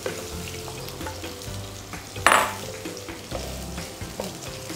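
Potato pieces hit a hot wok and stir-fry with a loud, close sizzle, a sharp burst of hissing in the middle as they land, then steady crackling and scraping of the spatula against the pan.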